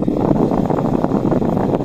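A steady, loud whooshing rush of air from a homemade solar-powered electric fan running at full speed on 220 volts, continuous and close with no voices.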